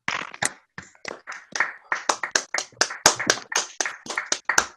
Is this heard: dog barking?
no